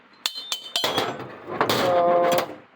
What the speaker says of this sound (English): A little hammer here